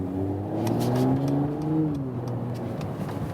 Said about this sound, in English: but you already hear some exhaust note, of course.